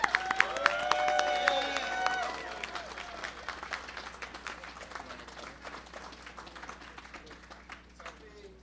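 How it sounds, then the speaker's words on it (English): Applause and clapping from a crowd at an outdoor freedom rally in New Jersey, loud at first and gradually thinning out, with scattered voices and cheers mixed in. "So if you guys could just join me in applauding for Ricardo Rivera"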